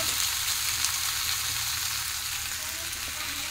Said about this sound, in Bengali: আর এখানে কুমড়ো আলু কষাই করা হচ্ছে।